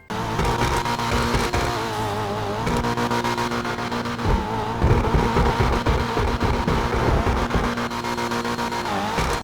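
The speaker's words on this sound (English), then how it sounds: "let's see how it looks and at the same time listen to how it sounds" Annis 300R car in GTA Online, its engine droning and revving steadily throughout with shifting pitch, loud and continuous, with no talking.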